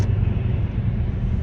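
A car passes close by with a steady low rumble that holds for about a second and a half, with no voices heard.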